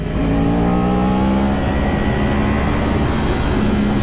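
A Kawasaki ZX-10R superbike accelerates hard in first gear, its loud engine note rising in pitch continuously and close throughout.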